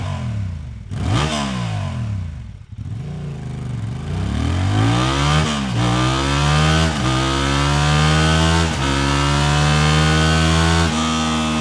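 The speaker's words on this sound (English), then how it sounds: "Alright, this was the stock exhaust, and now let's check out the Akrapovic slip-on." A Honda Transalp XL750 motorcycle with its stock exhaust revs repeatedly, each rise in pitch climbing sharply then dropping, loud and close with a raspy exhaust note and no talking.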